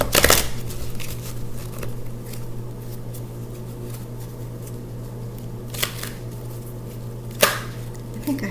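Hafez oracle cards being shuffled by hand, soft riffling and sliding with a few sharper snaps, close against a steady low background hum and with no talking.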